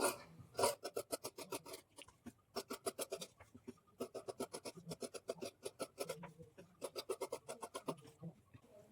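Scissors cut the back piece of a blouse from fabric in close, rhythmic bursts of rasping snips with short pauses between runs.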